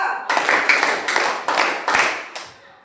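A group claps in sharp unison bursts during a counted clapping game in an Indonesian classroom session, six or seven crisp, evenly spaced claps close to the listener that fade at the end.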